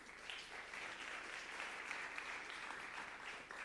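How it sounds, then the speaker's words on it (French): Audience in a conference room applauding after a presentation on a cloud data warehouse, steady even clapping that sounds moderately distant and fairly quiet, lasting the whole moment. "On peut vous applaudir."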